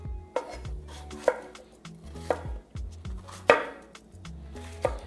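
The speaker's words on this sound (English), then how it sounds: "We're going to cut some red and green peppers, pretty much the same size," A knife chops red and green peppers on a cutting board in a series of sharp, separate strikes at an uneven rhythm, close and fairly loud, with no one speaking.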